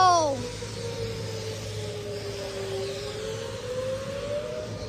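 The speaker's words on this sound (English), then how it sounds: "Tornado sirens!" A tornado warning siren wails outdoors, one long sustained rising and falling tone that carries steadily throughout, with a higher sweep at the start and voices talking faintly beneath it.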